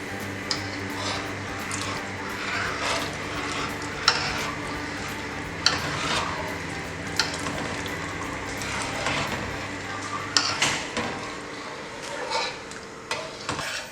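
Milk boiling in a pot for Turkish baked rice pudding, stirred continuously with a spoon that scrapes and clinks against the pot over a low bubbling, with faint kitchen noise.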